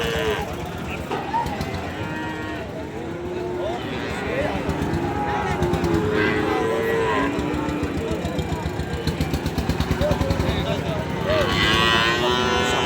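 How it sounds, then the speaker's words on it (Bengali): A Holstein Friesian calf moos at a busy cattle market, its calls rising over steady crowd chatter and a low idling engine. "হলস্টাইন ফ্রিজিয়ান একটা বাচ্চা।"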